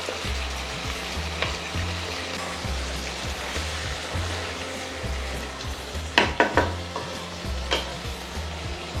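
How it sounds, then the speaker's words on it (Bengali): Meat tossed into hot oil with cloves for gora kalia, a rich Bengali curry, sizzles steadily in a pan while a spatula stirs and scrapes in a slow rhythm, with a louder cluster of scraping near the end; no voices. "লবঙ্গ সুগন্ধ বেরোলে তখন তাতে ঢেলে দিন এই মাংস"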